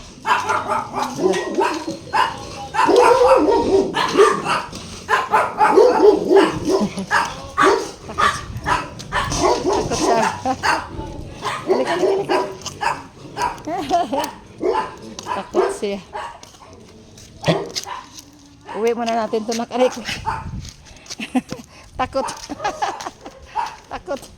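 A dog barks intermittently amid almost continuous, overlapping talk from several people nearby.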